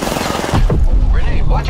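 Rapid bursts of gunfire in a first-person shooter video game, loud close cracks and automatic fire in quick succession, with a player's voice talking over them.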